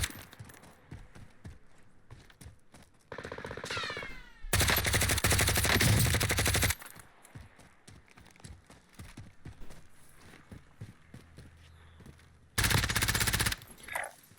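Gunfire in Call of Duty Warzone on the Caldera map: bursts of rapid automatic fire, two long loud sprays and a shorter volley, between scattered quieter shots and clicks, with no talk over it.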